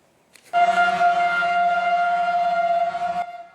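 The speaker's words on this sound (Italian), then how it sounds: "I clacson suonano come una sirena di speranza." Car horns blaring in a sustained, loud chorus for about three seconds as water tanker trucks roll into the Sicilian town of Ravanusa during a water shortage emergency, starting abruptly and cutting off together.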